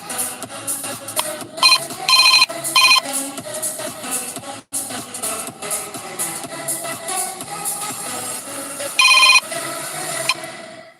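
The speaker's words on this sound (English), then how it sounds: "I got a phone call on my phone" A phone's ringtone for an incoming call plays a repeating electronic melody for about eleven seconds, steady and fairly loud with a few brighter bursts, during a walking tour of Núñez de Cáceres Avenue in Santo Domingo. No one speaks.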